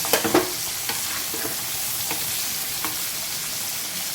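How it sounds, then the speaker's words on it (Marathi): Bagda shrimp frying in masala sizzle loudly and steadily in a pan, with a few sharp spatula knocks and scrapes near the start as the pieces are flipped, no talking. "आपण पलटून घेतले ते आता आपण व्यवस्थित फ्राय करून घेऊया"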